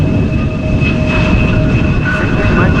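An airplane lands at Amsterdam Schiphol Airport in gusty crosswinds without using thrust reversers, giving a loud, continuous engine roar and broad rumble with a thin whine held throughout.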